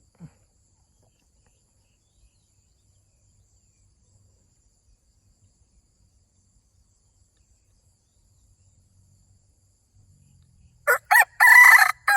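A jungle fowl rooster crows once near the end, a loud nearby cock-a-doodle-doo after a long stretch of near silence.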